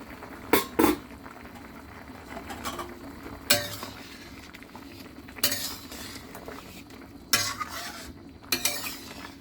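A pot of pork and winter melon soup with dry mushroom comes to a steady low boil, broken by several sharp clinks of a lid or utensil against the pot, close and fairly quiet.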